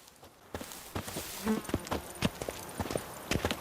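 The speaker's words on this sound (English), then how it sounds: "Even a horse drops if you ride it at a constant gallop." A horse gallops in The Witcher 3: Blood and Wine, its hooves striking in an irregular run of sharp, moderately loud thuds, joined by a brief tonal blip partway through.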